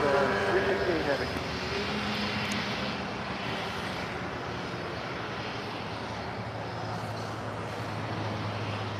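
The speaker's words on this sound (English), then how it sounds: "And the 777 now arriving." A Delta Boeing 777 heavy arrives on runway 25 left at LAX, its engines a steady broad roar with a low rumble that swells slightly toward the end, with radio chatter and voices talking over it.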